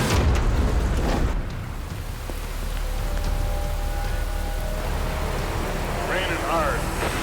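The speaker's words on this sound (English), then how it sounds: "Raining hard." Hard rain pouring down along a British Columbia highway, a loud steady hiss of drops on surfaces with a low rumble beneath; a voice speaks over it early on and a brief warbling tone rises near the end.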